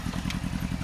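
Motorcycle engine running close by with a steady, throbbing low pulse and a faint clatter, loud and without a break.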